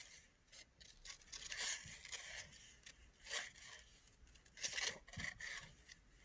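Scissors snip through paper as a bird shape is cut out in an art lesson, giving a quiet series of rasping cuts in irregular rhythm, close by and with no voices.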